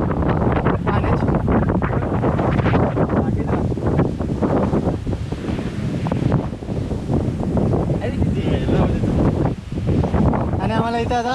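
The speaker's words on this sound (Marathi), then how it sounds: "खतरनाक वारा आहे." Strong wind blasts across an exposed mountain trail on the Gorakhgad fort trek, a loud, continuous roaring rumble buffeting the microphone throughout, with voices faintly mixed in.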